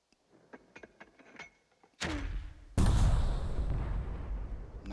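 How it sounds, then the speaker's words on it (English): A mortar barrage in the Burden of Command video game starts with faint clicks, then breaks into a sudden loud blast. A second, heavier explosion follows and rolls on in a sustained roar. "And finally, barrage this hex with mortars."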